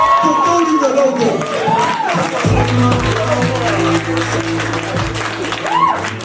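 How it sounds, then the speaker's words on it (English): A launch event crowd in Nairobi claps steadily at moderate distance, under music with a thumping bass beat and people talking over it. "Can we please give this man a hand of applause for coding the logo?"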